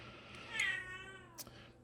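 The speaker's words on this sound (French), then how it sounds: "vous entendez mon chat qui râle" A cat lets out a drawn-out, grumbling meow, fairly soft and close, followed by a brief faint click in an otherwise quiet room.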